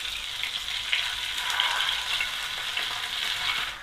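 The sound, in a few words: chicken shashlik frying in a pan on medium-low heat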